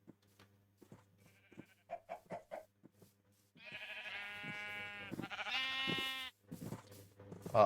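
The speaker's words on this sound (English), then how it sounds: "Oh, sheep. They have mutton." Sheep in Minecraft bleat in a loud, wavering cry lasting a few seconds, preceded by a run of short, soft clucking notes from chickens and a quiet, nearly silent background.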